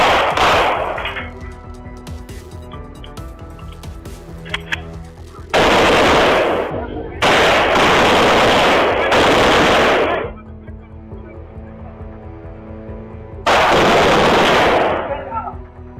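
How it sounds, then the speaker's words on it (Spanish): Bursts of rapid gunfire in an ambush on a city street in an upscale neighborhood, with loud automatic volleys of hundreds of shots in several long clusters separated by quieter gaps, alongside narration. "se quebró con el estruendo de más de 400 disparos"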